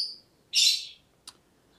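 A double dark blue slaty bird in an aviary gives a short, bright whistled call, then a louder buzzy note and a brief chip, clear and close against a quiet background.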